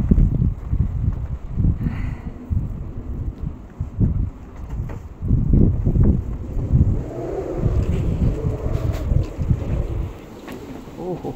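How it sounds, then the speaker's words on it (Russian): Strong blizzard wind in Altai Krai buffets the microphone in heavy, uneven gusts, loud and close, with rushing roar and brief lulls between blasts. "Ох, такой буран, Алтайский край, такой ветер."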